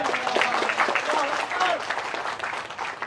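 At a Maulid Nabi religious gathering in Bekasi, a crowd claps in a busy burst of applause that swells and fades slightly, with voices audible underneath the clapping.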